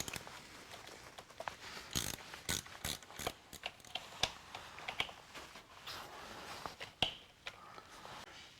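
A ratchet works on a motorcycle battery terminal during a heated-grip fitting, giving quiet, irregular bursts of sharp clicking close by.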